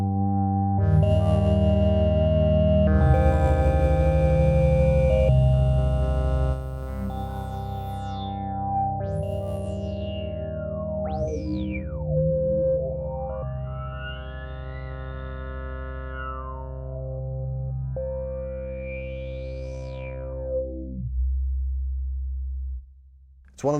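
Waldorf M wavetable synthesizer playing sustained tones and chords, with sweeping pitch glides and chirping, filter-swept effects layered over a steady low drone, loud and close with no voices.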